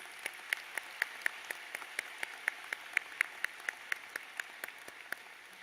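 Applause at a university commencement ceremony in a large hall, steady crowd clapping with sharp individual claps standing out at regular intervals, faint and somewhat distant.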